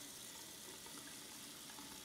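Steady water running from a tap inside a house in the survival game Zelter, a constant even hiss of flow with no pauses, fairly close and filling the whole short stretch.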